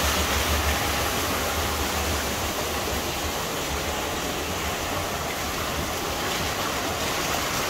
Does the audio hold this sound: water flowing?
yes